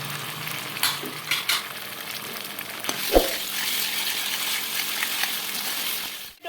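Ginger garlic paste hitting hot oil over lightly sautéed onions for a dhaba-style masoor dal: a steady, close sizzle and crackle throughout, with a few spoon scrapes and a clink near the middle.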